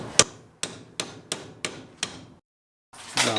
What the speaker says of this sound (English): I'm just going to tap this bushing in and get it started.